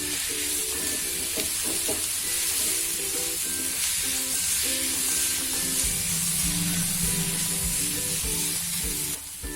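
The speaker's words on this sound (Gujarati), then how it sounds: "બે મિનિટ થઈ ગઈ છે આપણે લઈ લેશું ઢાંકેલું ફરી આપણે સરસ મિક્સ કરી દઈશું" Steamed beetroot being stirred in a pan while making beetroot laddoos, a steady close sizzle with repeated scraping strokes of the spoon running throughout.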